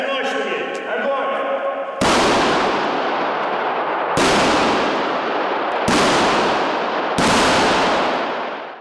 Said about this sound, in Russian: Стрельба из пистолета Ярыгина и автомата Калашникова